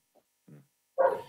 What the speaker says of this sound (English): He's in the backyard right now barking.